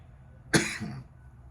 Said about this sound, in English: even with that little cough